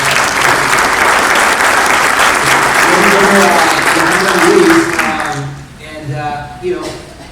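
A loud, full round of applause fills a room at a real estate top-producers event, then fades out as a voice begins talking.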